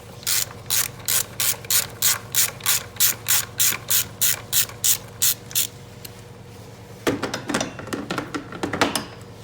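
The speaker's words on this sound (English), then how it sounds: "next we take this screw off" A ratchet wrench backs out a 10mm screw from the engine of a 2002 Toyota 4Runner, giving a steady run of about fifteen even, close clicks, then a faster, irregular burst of ratcheting.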